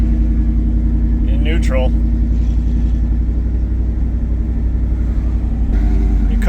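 A supercharged Ford SVT Lightning truck engine holds a high idle around 1400 RPM, a loud, steady, close rumble throughout, with someone speaking briefly.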